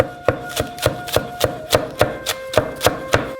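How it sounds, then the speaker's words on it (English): A knife chops green onions on a board in a steady rhythm, about a dozen crisp close thuds spaced evenly, with nothing else heard. "finally chop some green onions"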